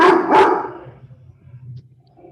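A dog barks twice in quick succession, close and loud, excited by tree contractors arriving, followed by a low hum.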